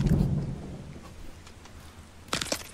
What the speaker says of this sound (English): It started thundering in your map too.